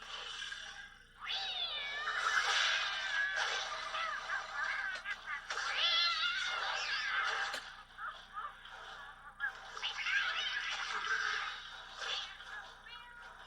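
Ice Cream Kitty, a cartoon cat from Teenage Mutant Ninja Turtles, meows repeatedly in high, wavering cries that come in several bursts, loud and close, with a faint voice briefly underneath.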